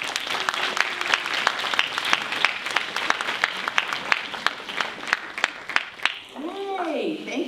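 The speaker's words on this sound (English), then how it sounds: "Why don't we give them a round of applause as they come up." Audience applause at a talk on healthy living, a crowd clapping with distinct sharp claps, thinning out near the end as a voice and a brief whistle-like tone come in.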